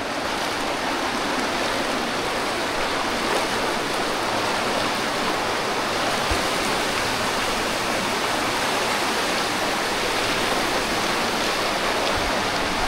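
Polluru waterfall in Andhra Pradesh pours in a steady, dense roar of rushing water that stays loud and unbroken throughout, with no voices over it.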